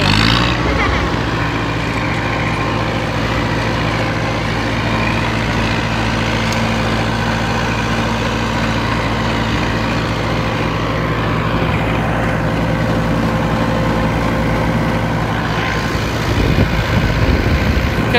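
An engine held at full throttle roars loudly and steadily, close by, with a sustained droning hum that barely changes over the whole stretch.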